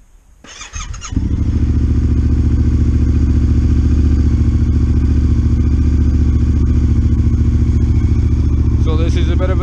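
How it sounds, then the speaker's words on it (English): A Yamaha Tenere 700 motorcycle engine catches on a cold start and settles into a loud, steady idle close by, with a suspected O2 sensor fault. "So this is a bit of a cold start run."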